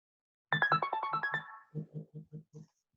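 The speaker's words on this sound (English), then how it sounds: "Somebody just texted me. I didn't silence my phone." A phone's text message notification tone plays in a quiet room during a home yoga class: a quick run of bright chiming notes followed by a series of lower, softer pulses, with no talk.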